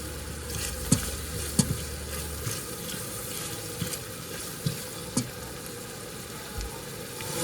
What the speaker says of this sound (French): Ensuite, je fais revenir mes oignons dans du beurre.